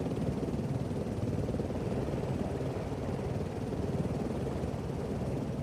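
Steady, dense rotor and engine roar of a helicopter in flight over New Hampshire, with a camera mounted on its nose, heard continuously from inside or close by, loud and unbroken with no talk.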